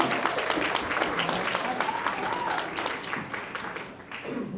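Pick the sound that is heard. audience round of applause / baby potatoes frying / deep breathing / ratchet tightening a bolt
audience round of applause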